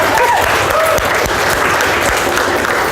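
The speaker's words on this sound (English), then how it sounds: "So let's give Kayla a round of applause." A crowd at a motivational talk applauds loudly and steadily for an audience member, dense clapping throughout with no clear talk.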